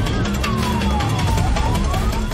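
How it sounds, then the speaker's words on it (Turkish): An ambulance siren wails loud and close in Istanbul traffic, its tone sweeping down and back up over the steady roar of the vehicle's motion. "Sirenleriyle sürücüleri yolu açmaları için uyarıyorlar."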